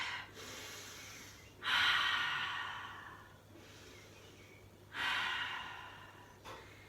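Two deep, slow breaths during a yoga sphinx pose, each a long airy inhale-exhale that rises sharply and tapers off, close and soft, with a brief third breath starting at the end.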